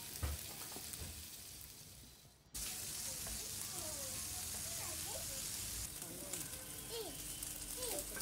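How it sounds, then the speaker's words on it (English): Beef, blended tomatoes and onions stir fry in a hot pan for spaghetti, a loud broadband sizzle that jumps in abruptly after a quieter start and carries on steadily, with faint voices in the background. "Let's stir fry our ingredients."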